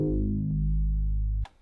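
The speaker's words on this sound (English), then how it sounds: "It's a Moog 808 sort of thing I found in a drill pack," A Moog-style 808 bass note from a drill sample pack: one long, deep sustained boom with a growling, harmonically rich tone that holds steady for over a second, then cuts off abruptly, leaving a brief faint tail.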